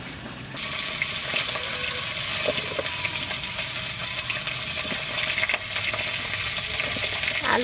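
Chunks of taro and potato hit hot leftover fish-frying oil in a wok for a Bengali village fish curry, setting off a loud, steady sizzle that runs unbroken close by.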